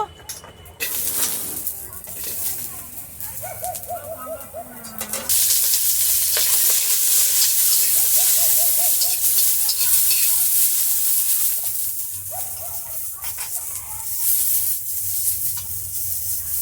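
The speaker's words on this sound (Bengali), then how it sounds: "বিনসগুলোকে এবার ভেজে নেব।" Green beans frying in a pan of hot oil as part of a shrimp shukto preparation, a loud steady sizzle that swells after a few seconds and holds with stirring scrapes, a voice speaking briefly early on.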